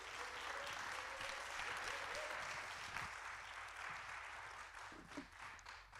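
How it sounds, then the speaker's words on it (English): A crowd at a community forum held in Mount Zion Baptist Church applauds in a sustained, roomy wash of clapping that fades slightly toward the end, with a low hum underneath. "Let's give him a round of applause."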